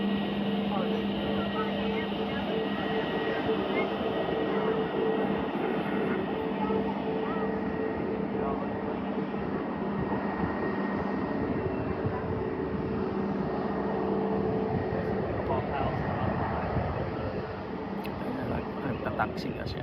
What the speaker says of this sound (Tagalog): Nagtataxi na siya papuntang terminal.